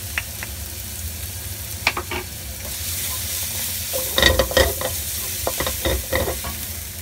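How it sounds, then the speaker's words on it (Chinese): Minced garlic sizzles in hot oil in a wok while being stir-fried for lettuce with oyster sauce, a steady close frying hiss with scattered scraping and stirring clatters from the utensil. "加啲蒜蓉去爆香佢啦"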